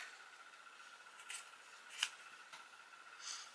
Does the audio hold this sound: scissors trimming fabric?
yes